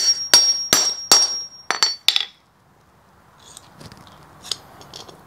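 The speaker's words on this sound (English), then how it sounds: "And then you take your big trusty hammer," Five sharp metallic hammer blows on a cable crimper land in quick succession, then quiet with faint clinks and handling noise.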